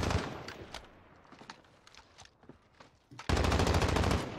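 Automatic gunfire in the video game Warzone, a scattered run of shots through the middle followed by a loud, sustained burst of rapid fire near the end.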